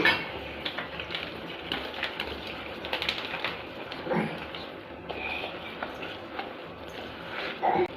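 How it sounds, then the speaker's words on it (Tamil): Rava sweet batter of semolina, strained jaggery water and oil stirred in a bowl, with a steady clatter and scrape of a spoon against the bowl; one brief louder knock near the end. "எண்ணெய் சேர்த்துட்டு இது நல்லா வந்து மிக்ஸ் பண்ணி விட்டுக்கலாம்"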